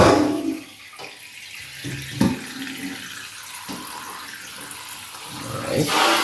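Tap water runs steadily while raw chicken is rinsed in a sink, a continuous broadband splashing with brief thuds and surges as the meat is moved under the stream.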